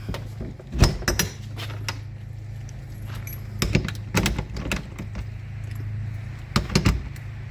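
Keys jangle in several short bursts while a cargo trailer is locked up outdoors on a fall day, with a steady low engine hum running underneath throughout.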